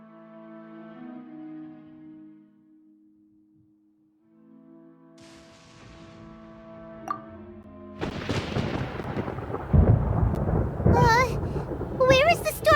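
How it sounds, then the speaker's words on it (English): Thunder in the video game Genshin Impact arrives as a loud, broad rolling rumble that swells after a calm musical passage, with a child-like character voice speaking over the storm noise. "Paimon hears thunder!"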